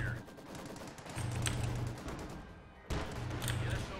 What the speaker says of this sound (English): I've got a machine gunner there that's going to make short work of them.